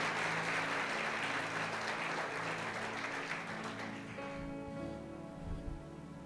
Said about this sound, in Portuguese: Dá uma salva de palmas para Jesus aí, cara.